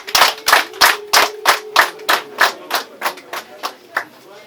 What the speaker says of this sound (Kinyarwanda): Amashyi n'impundu tubashimire.